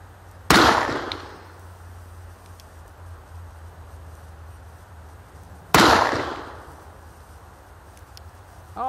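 A .44 caliber cap and ball revolver fires two loud, close shots several seconds apart, each a sharp crack with a ringing decay over a quiet background hum.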